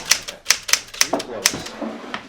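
Crisp keystrokes from an old, restored typewriter with a still-good ribbon, about a dozen sharp clacks in an irregular rhythm, close and clear.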